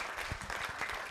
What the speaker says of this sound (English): Can we have another round of applause for Mr. Eddie, ladies and gentlemen?